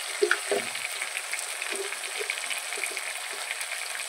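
Meat, onion and spices frying in oil in a pot, a soft, steady sizzle with a few brief stirring clatters near the start, quiet and close.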